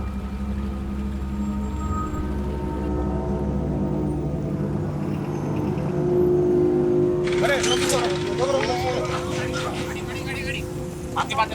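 A motorbike being ridden, with a steady engine drone that rises in pitch as it picks up speed. Several voices talk loudly over it.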